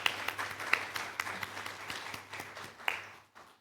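A conference audience applauds the panelists at the end of a session, with scattered, fairly faint claps and a few sharper ones standing out, fading away near the end.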